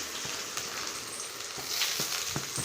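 Continuous sizzling crackle of onions frying in oil, with occasional taps of a spoon against the pan.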